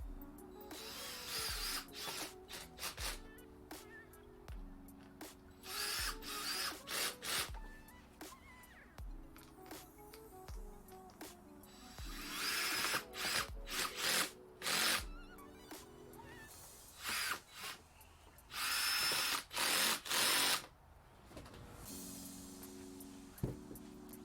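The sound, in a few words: power screwdriver driving screws into splitter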